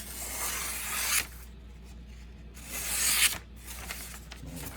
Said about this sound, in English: Start with a newspaper slice. Let's try a push cut.